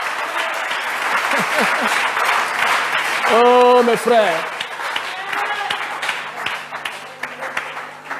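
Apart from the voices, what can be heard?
congregation applauding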